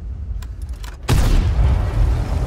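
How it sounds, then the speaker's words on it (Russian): A tank cannon fires in the World of Tanks game, one sudden loud boom after a short stretch of quieter engine rumble, followed by a sustained roaring decay. "И да, конечно же, первый выстрел всегда промах."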